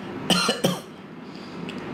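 Two quick, close coughs in succession, followed by quiet.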